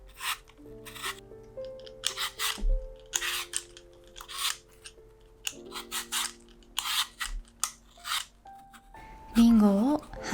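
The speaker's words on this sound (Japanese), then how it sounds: "お好みの方法でリンゴの皮を剥いて種を取り出します。" An apple is peeled and its seeds removed, giving repeated short scraping and rasping strokes, close and fairly soft, over quiet background music with sustained notes.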